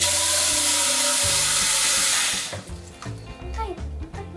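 Water from a tap pours loudly into a pot being filled to boil for pasta, a steady rushing hiss that cuts off midway, followed by quieter kitchen clatter and a voice talking.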